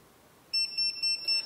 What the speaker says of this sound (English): You'll hear a series of beeps,